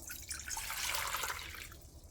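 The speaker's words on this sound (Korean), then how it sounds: "물 500m를 부어주고" Water poured into a bowl for making burdock kimchi, a soft, close splashing stream that swells and fades over about two seconds with no talking.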